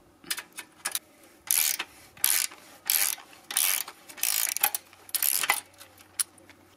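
A LIDL Powerfix ratchet wrench clicks in quick bursts of rapid ratcheting strokes, close up, loosening a nut, with short pauses between each burst.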